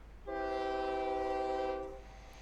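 Train departing a station in the OpenTTD video game, a single clear horn blast lasting about two seconds, steady and fairly faint, with no talking.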